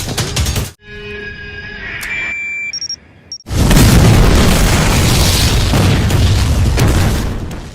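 Cars going up in a chain of explosions after a bomb hidden in an arrow detonates: a loud boom hits, a brief lull with a few small pops and tones follows, then a second massive blast roars and rumbles on.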